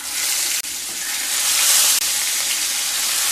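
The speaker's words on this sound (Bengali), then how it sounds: "তেল গরম হয়ে গেলে মাছগুলোকে ভেজে নেব" Koi fish frying in hot mustard oil, a loud, steady sizzle filling the clip, with two brief dips where the hiss momentarily cuts out and resumes, no voices.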